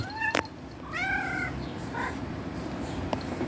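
A pet cat named Precious meows several times in a home beside a pink cat tree tower, short plaintive calls with one longer wavering cry, close by over a steady background hiss.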